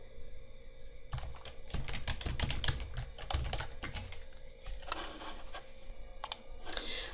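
Fingers type code on a computer keyboard in quick uneven bursts of clicking keystrokes, close and fairly clear, with short pauses between runs and no speech.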